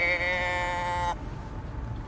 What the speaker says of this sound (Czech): Kráva.